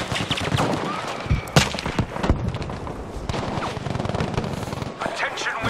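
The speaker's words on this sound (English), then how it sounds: "Machine gun!" Machine gun fire in a war video game, rapid bursts of gunshots with thuds and booms over a busy battle din, while voices call out.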